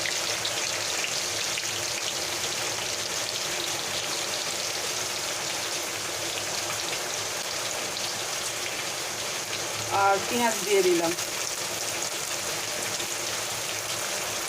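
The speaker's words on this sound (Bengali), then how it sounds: "আমার এখানে খুব বৃষ্টি হচ্ছে তো বৃষ্টির একটা সাউন্ড আসছে" Heavy rain falls outside, a steady dense hiss that fills the whole stretch, and a voice speaks briefly over it partway through.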